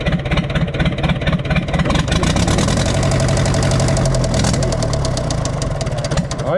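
A Universal 550 tractor's diesel engine runs with an injector pipe loosened, a loud, close, steady rough idle with a rapid knocking beat throughout and no talking.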